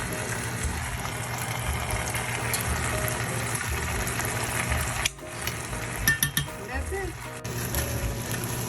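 Ghee butter dropped into a pan where asparagus risotto is cooking gives a continuous close sizzle with stirring scrapes and small clatters near the end.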